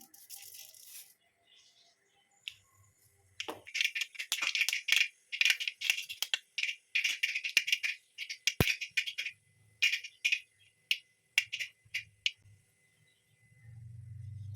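Mustard seeds crackle and pop in hot oil while cooking a sausage roast, rapid irregular bursts of sharp spattering clicks arriving in clusters, close by.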